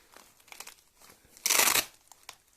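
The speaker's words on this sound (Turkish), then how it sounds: "Şöyle poşetten çıkaralım." Plastic zip-lock bag crinkling as a slimming massage belt is unpacked, with soft rustles first and then one loud, sharp half-second burst of crinkling, close by and with no talking.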